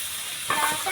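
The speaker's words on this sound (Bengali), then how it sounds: "সেদ্ধ করা লতি ঢেলে দিচ্ছি।" Boiled taro stolons tipped into a hot pan, a steady frying hiss that swells into a louder sizzle midway as the food hits the oil, close and continuous.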